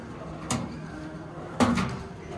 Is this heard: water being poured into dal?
no